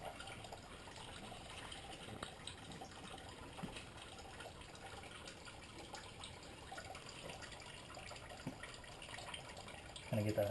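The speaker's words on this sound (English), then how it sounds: "Kind of get that hose flushed out a little bit." Water running through an Infiniti G37 coolant hose to flush it out, a steady tap-like gush with faint background sounds and a louder burst near the end.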